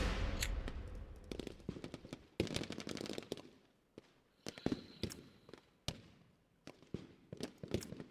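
Artillery fire in the wargame Lock 'n Load Tactical Digital, Chin Dhuc scenario with Australian forces: irregular clusters of sharp, loud explosive bursts and crackling impacts, with brief quiet gaps between volleys.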